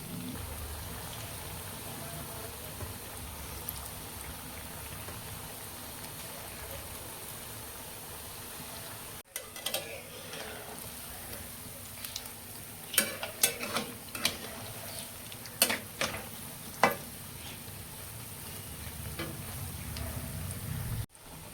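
Semolina (suji) gulgule frying in hot oil on a gas stove, a steady soft sizzle running throughout with a few sharper crackles and pops later on; no talking.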